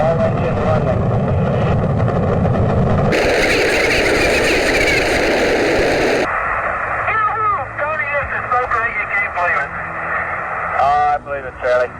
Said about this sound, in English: 2, 1, 0, all engine running.